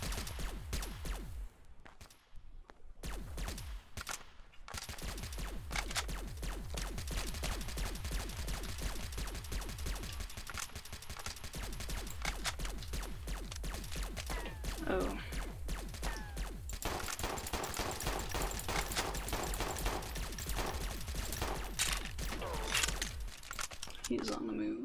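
Steady gunfire and mechanical clatter in the game Freeman: Star Edge run underneath, mostly constant with a few brief gaps early on.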